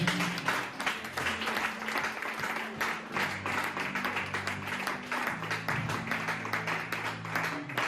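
A church congregation at a retreat claims God with sustained, dense applause from many hands. It holds steady throughout, with low voices and a hum under the clapping.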